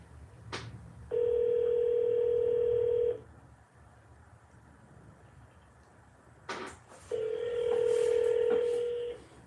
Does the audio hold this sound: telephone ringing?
yes